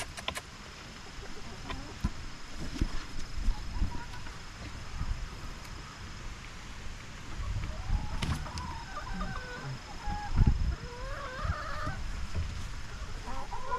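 Chickens cluck softly on a flooded farm, with scattered low clucks and occasional bursts of movement and handling noise in the background, fairly faint overall.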